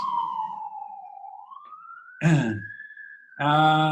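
A siren wails in a long falling then rising tone, fairly clear, with short bursts of louder broadband noise cutting in near the end.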